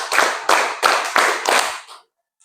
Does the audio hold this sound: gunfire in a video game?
no